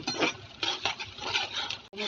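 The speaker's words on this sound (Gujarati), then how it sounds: "હવે આમાં હું ડુંગળી સાતરીશ." Onions sautéing in a pan for a puffed-rice snack with potatoes and green chillies, heard as a spoon scraping and clinking against the metal pan in irregular strokes under a soft background sizzle.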